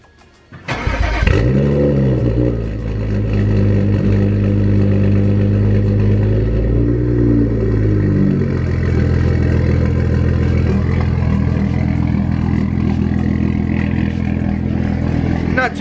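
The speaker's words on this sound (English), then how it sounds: "But first, let's get a cold start." A BMW 335i fitted with MHD cold start reduction fires up from cold with a sharp starter crank and an initial rev flare, then settles into a steady, loud, droning high idle that holds evenly to the end.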